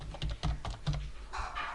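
Close, fast typing on a computer keyboard, a quick run of crisp key clicks with a brief burst of lighter, brighter taps at the end, no voices.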